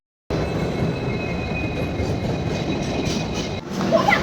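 A night train pulls into Simaluguri station with a loud, close, continuous rumble of wheels and cars that starts suddenly and holds steady, a thin high whine running through it and a brief change near the end.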